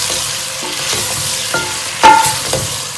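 Chicken fries in a pan with tomato and chilli, a continuous sizzle under a few brief spoon scrapes and clicks as it is stirred, close and fairly loud.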